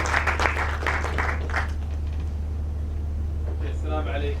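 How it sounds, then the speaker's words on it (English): An audience at a Saudi Aramco ceremony claps in a dense burst for a man coming on stage, fading after a couple of seconds over a steady low hum, with a voice speaking near the end. "With a round of applause"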